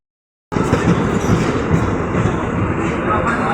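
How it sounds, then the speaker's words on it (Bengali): Mumbai Express train standing at or rolling through Goma station, a dense, steady rail rumble that starts abruptly and carries on close and loud, with a faint hint of voices beneath. "কত তাড়াতাড়ি ট্রেন চলে এলো।"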